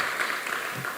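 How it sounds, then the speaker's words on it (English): Audience applause at a launch and ribbon-cutting ceremony, a faint, steady patter of many hands clapping at a distance with no voices over it. "Let's give a round of applause for that."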